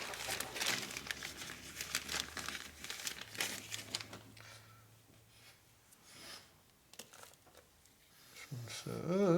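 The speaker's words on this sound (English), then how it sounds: "See, when you have no nails and no fingerprint, it's hard to open bags up." A plastic bag is worked open by hand in a motorcycle workshop, with loud close crinkling and crumpling at first, then quieter rustles and scattered handling noises toward the end.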